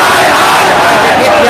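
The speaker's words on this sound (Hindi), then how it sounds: "देखिए किस तरीके से लोग मुर्दाबाद का नारा लगा रहे हैं नरेंद्र मोदी के खिलाफ, जुल्म के खिलाफ।" A large protest crowd chants slogans against Narendra Modi, a dense, loud roar of many voices held steady and close throughout.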